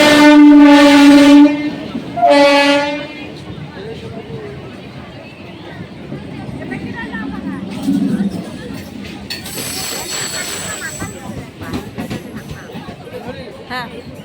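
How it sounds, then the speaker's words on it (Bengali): A train pulls into a village railway station, opening with two long, loud horn blasts followed by rolling wheel noise and clatter, with people talking nearby over the rumble. "তো এখন ট্রেন চলে এসছে, দেখো আমি ট্রেনে উঠেও গেছি।"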